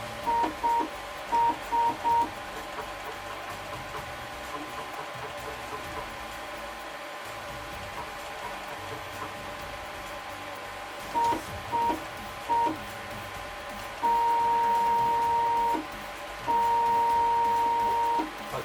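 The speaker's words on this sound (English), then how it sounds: "I can make the print head go up and down. Backwards and forwards." A 3D printer's print head is driven from a computer, giving short stepper-motor whines in quick bursts early on, a quiet stretch, then more short bursts and two longer sustained tones near the end, close and clear.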